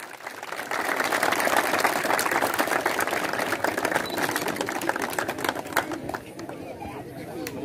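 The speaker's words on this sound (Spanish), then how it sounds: "¡Fuertes los aplausos!" Loud, dense crowd applause and cheering fill a stadium at the opening ceremony of a sports league's 40th anniversary, sustained throughout with a slight dip near the end.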